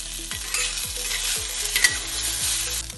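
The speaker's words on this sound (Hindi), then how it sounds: "अब हम इसमें स्टीम्ड की हुई बफौरी को ऐड कर देंगे।" Steamed bafori frying in oil with curry leaves in a kadhai, a loud continuous sizzle with repeated scraping stirs against the pan at regular intervals, close up and without speech.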